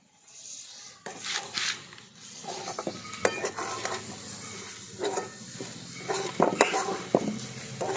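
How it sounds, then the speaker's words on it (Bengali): Kachori filling of turmeric, coriander powder and chopped green chili is stirred in a pan, with scraping and rubbing strokes of a spoon against the metal, faint sizzling, and a voice talking over parts of it. "এখন সমস্ত কিছু একসঙ্গে মিশিয়ে নিয়েছি"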